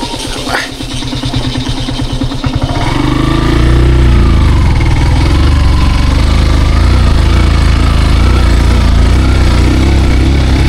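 A 150cc Jet motorcycle labors up a steep hill near Hilebaba Ashram in Gulmi, Nepal, failing to pull even in first gear. It idles and putters briefly, then surges into a loud, continuous, strained engine roar held close up for the rest of the clip.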